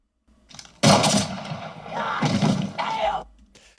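A loud, deep-bassed movie gunshot from the film Sinners, shown in a 4K UHD Atmos release, hits hard and rumbles on after a quiet lead-in, with a second heavy burst following.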